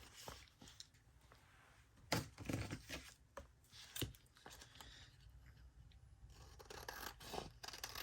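Scissors trim paper for a pocket, giving a run of quiet snips and scraping cuts with a few sharper, louder clips, close and alone without any talk.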